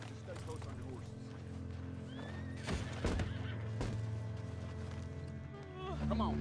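Horses neigh and whinny over steady clip-clopping hooves in Red Dead Redemption 2, with several whinnies standing out mid-clip amid game ambience and voices talking.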